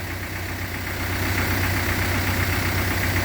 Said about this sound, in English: listen to that diesel engine hum